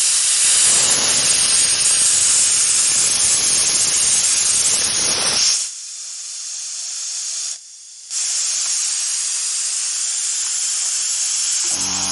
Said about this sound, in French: Je vais laisser échapper de l'air par la vanne.